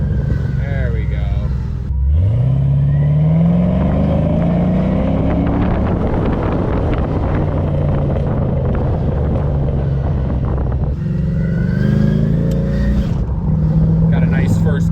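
An LS-swapped 1988 Firebird with long tube headers pulls hard through first gear, its engine note rising steadily before easing off and climbing again, loud and close with wind buffeting the mic.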